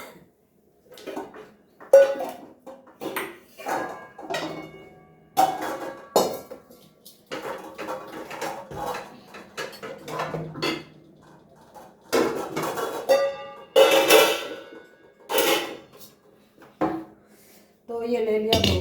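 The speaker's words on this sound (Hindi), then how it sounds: "तो ये ले लिया भगोना, और ये ले ली मैंने कढ़ाई जिसमें मैं बनाऊंगी आलू बैंगन" Pots and pans clatter and clink repeatedly while a cooking pot (bhagona) and a wok (kadhai) are taken out and handled in a home kitchen before making potato-eggplant curry, with bursts of metallic knocks and scrapes and brief quiet gaps.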